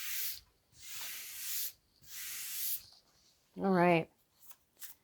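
A tarot card deck being shuffled by hand in three rapid riffling bursts, each lasting roughly a second and spaced by short gaps, then a brief spoken remark and a few faint soft rustles.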